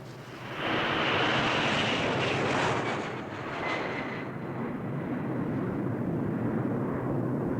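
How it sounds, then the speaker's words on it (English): A fixed-wing airplane's engine roars loudly and steadily, rising in at the start and holding as a broad, continuous drone to the end with no talk over it. "No, it's a plane."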